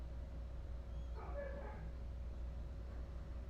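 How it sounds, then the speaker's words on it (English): Dogs give a short burst of faint, high whimpering yips midway through, distant and low under a steady background hum, with no talking. "Why are the dogs going crazy?"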